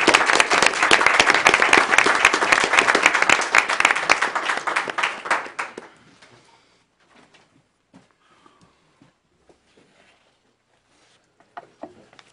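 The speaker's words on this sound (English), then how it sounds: "Another big round of applause" A dense round of applause at a school board meeting, loud and even for about five seconds, then fading out into a quiet room with a few faint knocks and shuffles.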